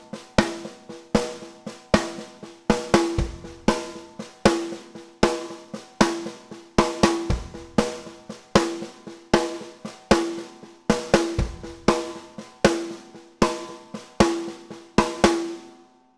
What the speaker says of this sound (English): So if I just chuck the snare drum on, loop it round, just with the bass drum at the start on beat 1,